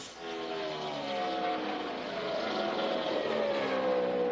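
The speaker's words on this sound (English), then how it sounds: "You heard a rev limiter right there in that microphone" An ARCA race car at Pocono raises its engine pitch in a loud, sustained whine, rising harmonics droning from a distance, consistent with bouncing off the rev limiter.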